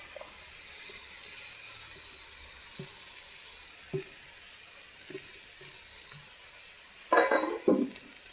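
Leftover rice fries in a pan under a soft, steady hiss, with occasional light spatula taps and a short burst of scraping and stirring near the end. No voices.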